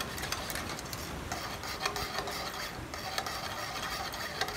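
Milk pudding (muhallebi) for Etimek dessert being whisked, heard as a continuous close scraping and stirring rasp with small irregular clicks and no voices over it.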